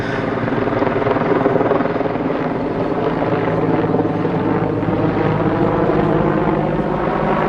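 A helicopter drones steadily at the Battle of Britain airshow at IWM Duxford, its rotor thumping in an even, continuous rumble with no voices.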